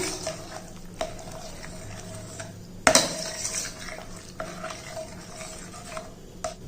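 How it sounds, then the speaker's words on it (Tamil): A spoon scrapes and clinks against a metal pot in an irregular rhythm, stirring and mashing thick porridge with hot water, with one louder knock partway through. "எல்லாத்தையும் நல்லா மிக்ஸ் பண்ணிடுவோம்."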